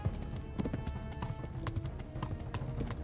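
Horse hooves gallop in the medieval video game Kingdom Come: Deliverance, a fast, steady clip-clop rhythm up close over low rumble, with no speech.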